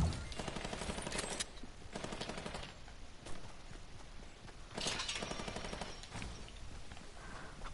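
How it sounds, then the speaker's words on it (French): A new submachine gun fires in a video game in rapid automatic bursts, dense and continuous with short gaps, heard at moderate level with no talk over it. "j'entends la nouvelle mitraillette"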